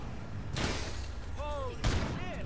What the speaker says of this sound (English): Oh! I just put a bullet in her head.